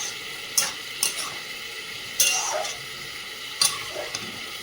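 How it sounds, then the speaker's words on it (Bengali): Vegetables sautéing in a pan, a steady low sizzle broken by several sharp spatula clinks and scrapes against the pan at irregular intervals, close and alone without talk. "সবজিটা খুব সুন্দর কষিয়ে নিয়েছি,"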